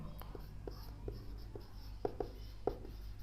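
Someone writing a name on a classroom board, a series of soft scratchy marker or chalk strokes in an uneven rhythm, faint and close.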